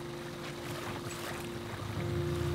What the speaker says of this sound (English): You can hear all the waves lapping on the boat.